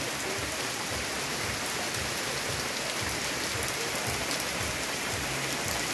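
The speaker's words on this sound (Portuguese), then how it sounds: "E a chuva caindo, amigos." Rain falls steadily at a campsite, a dense, even hiss of drops on surfaces that continues unbroken and fairly close throughout.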